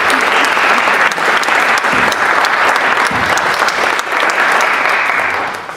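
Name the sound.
audience applause for a panel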